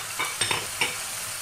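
Ginger and diced onion drop into a hot pan, giving a brief sizzling burst with a few stirring scrapes, a couple of soft impacts, then a steady low frying hiss with no voices.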